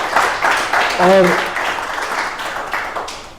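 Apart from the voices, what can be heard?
audience applause at an interview event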